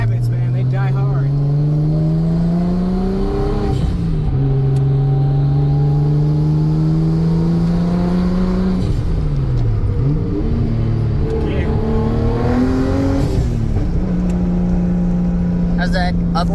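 A Nissan R32 Skyline GTS-t turbo pulls uphill, its engine note rising steadily through several gears with brief dips at each shift, loud and close from inside the cabin.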